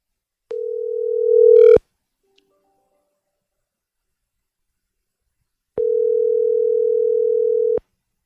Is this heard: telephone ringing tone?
yes